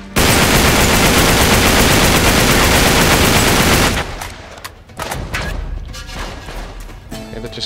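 Loud, dense automatic gunfire from the video game Uncharted 3 rattles continuously for about four seconds, then gives way to scattered, sharper single shots and impacts at a lower level.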